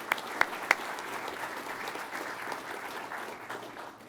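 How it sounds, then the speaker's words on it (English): A large audience at an Air Force undergraduate pilot training graduation ceremony gives sustained applause. The clapping is steady and room-filling, with a few sharper claps standing out at the start. "So please, a round of applause for our support folks."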